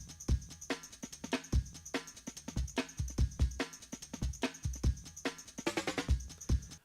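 A drum break plays on its own: a busy, funky loop of kick, snare and steady ringing hi-hat or ride, driving and close, with a quick snare roll near the end.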